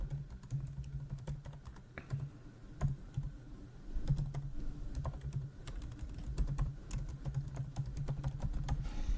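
Close, steady typing of an email address, password and username on a computer keyboard, rapid uneven keystrokes clattering throughout with a faint low hum behind them.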